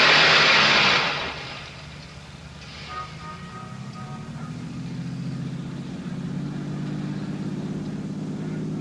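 A car starts and pulls away as a radio drama sound effect: a brief loud burst, then a steady mid-low engine hum that builds slightly as it keeps driving, with no voices.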